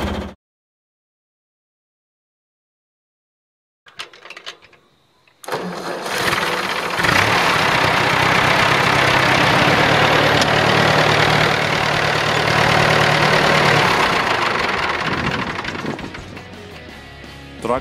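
An old diesel tractor engine cold-starts after years of sitting: silence, then a few cranking bursts before it catches and settles into a loud, steady, rumbling idle that runs on to the end.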